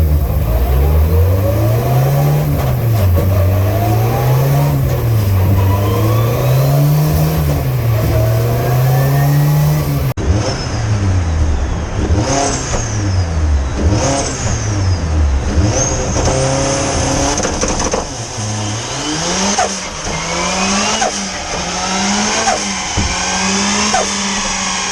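A turbocharged Mini Cooper S R53 race car running a MaxxECU Pro is run on a rolling road. Its engine revs up and down in repeated loud, close sweeps, with sharp throttle changes throughout.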